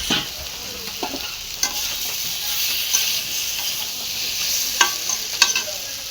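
Water poured into spices frying in a pan while making a potol and prawn dish, giving a steady bright sizzle with occasional stirring clinks and sputtering pops, close and continuous.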